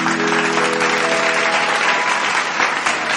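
Loud, close crowd clapping at a stage music show for an Odia singer, dense and continuous throughout, with a faint sustained tone underneath.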